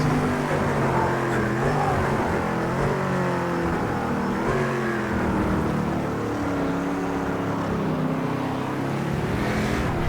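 A race car in Project CARS 2 accelerates on cold tires, its engine note rising and falling through several gear changes as it revs hard, loud and close throughout with no talking.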